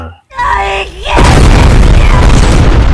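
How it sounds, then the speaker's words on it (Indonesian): A loud, deep explosion bursts and rumbles on, preceded by a brief tonal sound, with cinematic sound effects filling the space. "Ledakan hebat pun terjadi."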